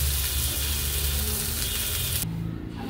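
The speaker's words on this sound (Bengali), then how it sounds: "সেটাতে একটু ভেজে নেব" Potato and raw jackfruit mixture with spices frying in oil makes a dense, loud sizzle that cuts off abruptly near the end, leaving a softer low hiss.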